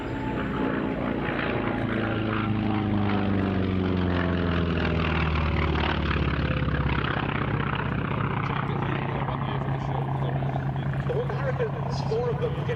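Four FM2 Wildcat propeller fighters take off together at an airshow at RAF Duxford, their radial engines droning loudly and steadily while the pitch slowly shifts as they climb away.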